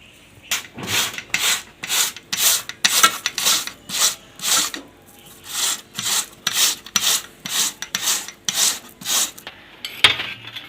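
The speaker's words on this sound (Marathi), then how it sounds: "याच्यामध्ये 3 बटाटे मी इथे घेतलेले आहेत, ते किसून घेते." Raw potatoes rubbed on a hand grater in a home kitchen, in a steady series of about sixteen close, rhythmic rasping strokes with short pauses between them.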